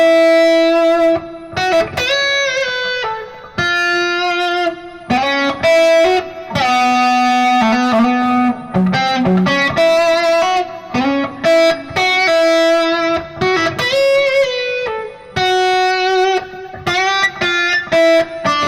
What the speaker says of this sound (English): I like to blend this blend of delay and reverb so it kind of creates a little bit more